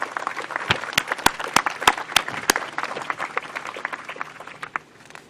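An audience claps in thanks for healthcare workers across Manitoba at a hospital announcement in Portage la Prairie. The applause is moderate and steady, with a few sharp, loud claps standing out near the front.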